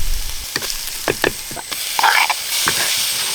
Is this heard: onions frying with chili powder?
yes